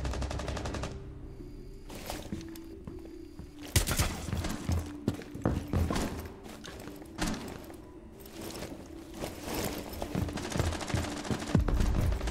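Rainbow Six Siege gun battle: loud, close bursts of rapid automatic fire alternating with single sharp gunshots, repeating across the span with brief gaps between volleys.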